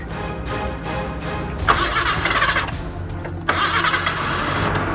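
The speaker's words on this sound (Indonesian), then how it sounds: "coba sekarang nyalain mesinnya" A car engine cranks and catches inside a factory, then settles into a steady mid-pitched idle. A second surge partway through raises the level before it steadies again. No one talks.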